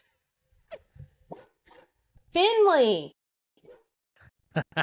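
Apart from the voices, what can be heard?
dogs barking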